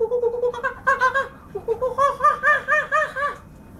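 A voice imitates a chimpanzee with rapid rising hoots and excited, laugh-like panting calls, close and loud.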